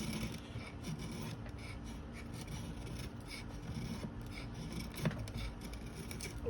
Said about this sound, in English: let's do a little hard carving. Let's see if we can make some feather sticks.